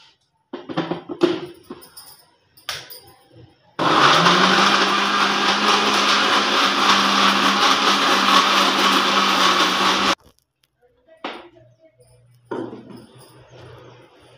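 A kitchen mixer grinder blending chopped beetroot with water into juice, a loud steady motor whir lasting about six seconds, framed by clinks and handling noises before and after.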